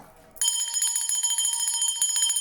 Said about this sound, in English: I'm ringing the bell again